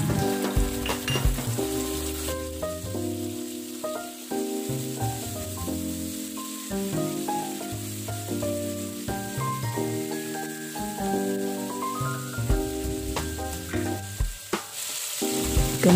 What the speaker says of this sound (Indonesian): ini langsung terus diaduk aja supaya dia tidak gosong